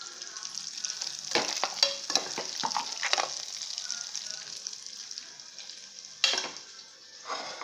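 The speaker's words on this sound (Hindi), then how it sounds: "अभी बहुत सारी तलना है" Masala-coated fish frying in oil in a pan, a steady high crackling sizzle, close by, with intermittent louder spatters and clatters of handling.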